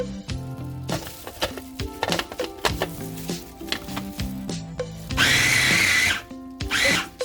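A blender or food processor chopping shrimp for shrimp and pork meatballs, running in short pulsed bursts, close and fairly loud, ending in one longer whirring run and a final brief pulse.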